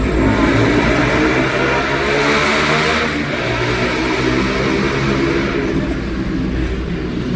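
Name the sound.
tricycle engine passing noisily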